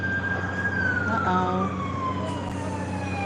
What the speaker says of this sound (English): Oh, here comes an ambulance.